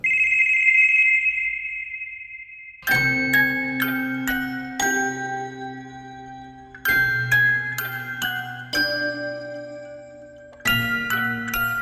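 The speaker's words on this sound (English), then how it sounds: "Lyle takes out his phone and dials Noah." A telephone rings in repeated bursts after a brief steady tone, as a call goes out from a mobile phone; the bursts are loud and close, separated by short gaps, with no voices.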